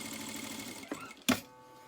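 A sewing machine stitches elastic into a trouser waistband in quiet, brief runs, ending with a short, sharper mechanical clack.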